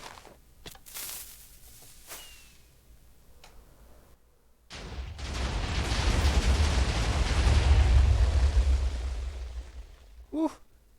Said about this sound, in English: The temple is chock full of TNT now, ready to blow, and I figured I may as well blow it up the way Mojang intended.